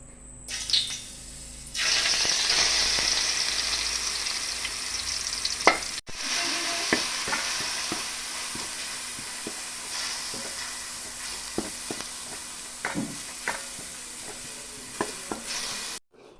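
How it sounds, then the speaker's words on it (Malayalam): Crushed shallots sautéing in oil in a pan for Kerala-style thoran: a steady, close sizzle that runs throughout, with the scrape and clatter of a spoon stirring at irregular intervals and no talking. "എണ്ണ ഒഴിച്ചു കൊടുത്തിട്ട് നമുക്ക് ആ ചതച്ച് വെച്ച ഉള്ളി ഒന്നിട്ട് വഴറ്റിയെടുക്കാം"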